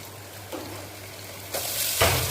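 A spoon stirs a veg biryani mixture with turmeric, coriander-cumin and red chilli powder in a pressure cooker. Soft sizzling runs under two or three short scraping strokes.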